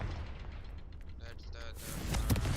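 Confringo blasting spell explosion in Hogwarts Legacy, a rumbling low boom that swells near the end over game ambience, with brief chiming magical effects before it and a voice speaking faintly.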